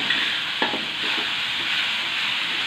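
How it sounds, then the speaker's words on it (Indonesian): Ground spice paste stir-fried in a pan for fried rice with noni leaves: a steady, fairly loud sizzle runs throughout, with a few brief spatula scrapes early on. "bumbu yang tadi saya ulek saya tumis dulu biar matang"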